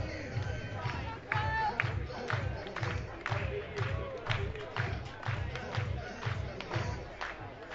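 A baseball stadium crowd at a Canberra Cavalry versus Brisbane Bandits game murmurs steadily through a crowd mic, with scattered shouts and claps in a continuous ambient wash.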